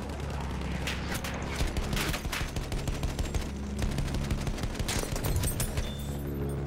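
Rapid machine gun fire from a bomber's rear gunner in the Battlefield 1 video game, dense continuous bursts of rattling shots over a low rumbling engine drone, loud and sustained.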